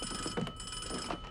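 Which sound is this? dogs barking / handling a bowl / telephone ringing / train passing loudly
telephone ringing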